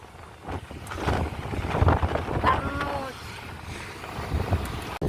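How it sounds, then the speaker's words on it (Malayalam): Strong wind buffets the microphone in loud gusting rumbles, with a person's voice briefly audible and a faint whistle-like tone. "ഓ എന്തൊരു കാറ്റില്ലേ"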